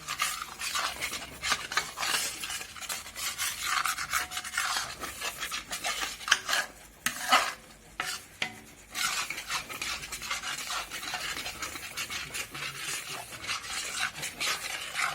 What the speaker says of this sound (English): We will mix up properly.